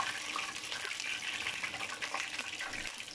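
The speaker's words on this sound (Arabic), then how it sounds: "غادي ناخذ حبه اخرى غادي نديرها في الماء" Water sloshes and gushes steadily as a cauliflower floret is dipped into water for frying, a continuous close splashing with no talk.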